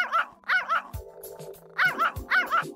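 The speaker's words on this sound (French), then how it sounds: "celui-ci fut rapidement poursuivi par Nana, la chienne de la famille." A family dog in a narrated fairy tale barks loudly and close, giving quick high yips in pairs with short pauses between them.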